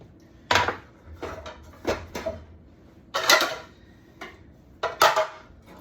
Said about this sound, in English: a frying pan